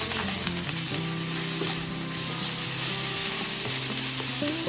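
Korean spicy pork bulgogi with vegetables sizzles in a hot pan with a spoonful of bacon fat, a close, loud, continuous frying crackle with light stirring scrapes and no voices.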